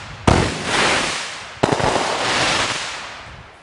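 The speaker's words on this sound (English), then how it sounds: "Folks, you're getting fireworks on CW Iowa Live." Daytime fireworks go off outdoors, two sharp loud bangs each followed by a long rushing, crackling hiss.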